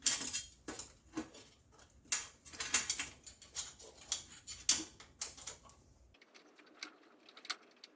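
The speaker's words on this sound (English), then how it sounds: "And now you can close the machine again." Metal casing panels of an espresso machine being closed up during a dimmer modification, with a series of sharp clicks, taps and clinks in irregular rhythm, close and moderately loud, then quieter handling noises.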